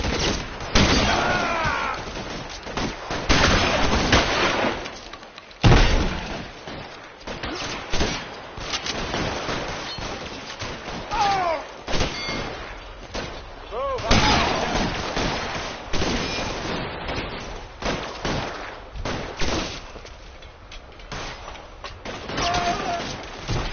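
Gunfire in a shootout in the video game L.A. Noire, repeated sharp shots and bursts in irregular clusters over a game soundtrack, with voices calling out between volleys.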